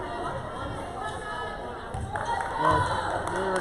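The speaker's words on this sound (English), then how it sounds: "And now the crowd coming to life just a bit more" Gym crowd at a girls' high school volleyball match, Elizabeth Forward at Uniontown, rising into louder cheering and chatter midway, steady and moderately loud with some shouts.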